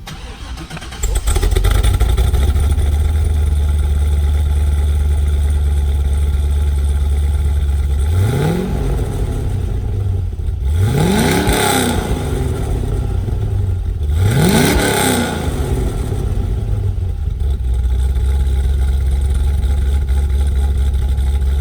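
A deep V8 engine idles loudly through an open exhaust, then revs up sharply three times in quick succession, each rev rising and falling before settling back to a rumbling idle.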